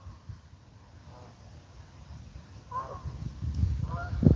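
A few geese honk outdoors, brief nasal calls rising near the end over wind buffeting and low handling noise.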